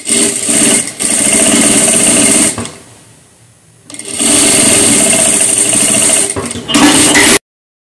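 A sewing machine runs a safety seam on a crossbody bag in two fast, loud stitching runs split by a brief pause, then a short final burst close by.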